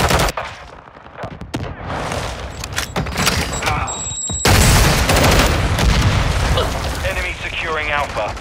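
Grenade blasts and rapid gunfire from a Call of Duty Modern Warfare 2 Domination match, heavy booms and bursts of shots packed close together, with voices calling out over the din.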